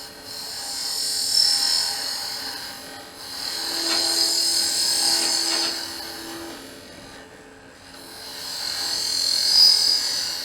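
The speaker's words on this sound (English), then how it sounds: "we're just going to grab a little scraper and smooth that out back there" A hand scraper smooths a wooden biscuit or cookie cutter spinning on a woodturning lathe, giving three rising-and-falling passes of close, hissing, high-pitched scraping over the faint hum of the lathe.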